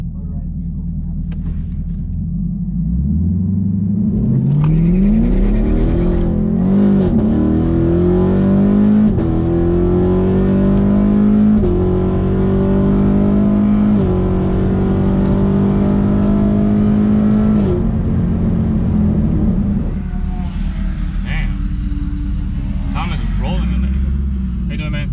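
An Audi TTRS launches hard in a quarter-mile drag race, its loud engine climbing in pitch through several upshifts over about fifteen seconds before backing off, with a steady roar and rumble throughout.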